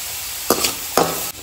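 Onion, garlic, green and red chili frying in a pan, with two sharp sizzling bursts as ingredients hit hot oil, then a brief steady hiss.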